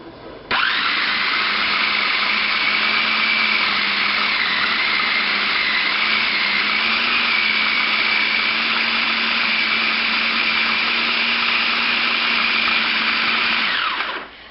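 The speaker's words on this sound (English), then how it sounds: "this is such a good food processor" A Black & Decker food processor chopping meat and vegetables spins up into a loud, steady motorized whir lasting over ten seconds, then winds down abruptly, heard close with no talking.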